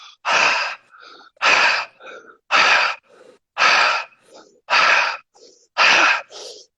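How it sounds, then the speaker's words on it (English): Six rapid, forceful breathwork breaths in an even rhythm, each a loud close sharp exhale followed by a quieter inhale. "And now we're going to do a last 10 breaths real quick."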